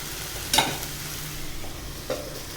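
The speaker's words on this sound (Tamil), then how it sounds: "நல்லா கொதிக்குது" Sambar bubbles and sizzles in a pot with a low, steady simmer, broken by two sharp utensil clinks from stirring, heard close with no one speaking.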